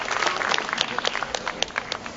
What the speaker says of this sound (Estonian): Taganeme tagasi publiku ohtra aplausi saatel.